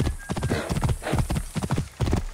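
Horse hooves clip-clopping at a steady riding pace in Assassin's Creed Origins, close and prominent, with a short whinny and faint voice underneath.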